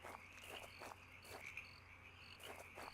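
Frog croaks from the horror video game Home, repeated in an uneven rhythm over a steady insect-like chirring and a low hum, moderately loud in an eerie outdoor night ambience.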